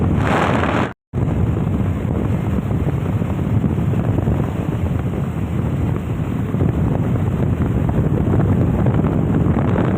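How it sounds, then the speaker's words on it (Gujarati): Heavy rain and strong wind roar during a motorbike ride in rural Gujarat, a loud, dense, unbroken wash of noise with a brief dropout near the start and no talk. "વરસાદ જાજો આવી ગયો."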